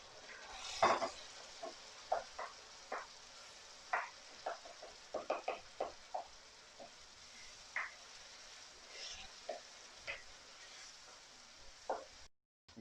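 Tomatoes cooking in a pan for spinach (palak) chicken, a soft steady sizzle at low level with frequent short scraping stirs and clinks of a utensil against the pan, no talking.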